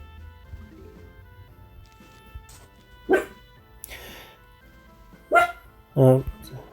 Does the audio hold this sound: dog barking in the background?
yes